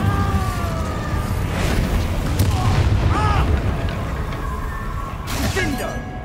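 Incendio fire spells in the Hogwarts Legacy game crackle and thump in a busy fight, with bursts and booms landing over a dense rumbling backdrop and whooshing flashes near the end.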